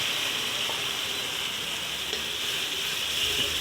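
Ginger, garlic and onion paste sizzling steadily in hot oil in a frying pan, a close, even hiss throughout with faint stirring.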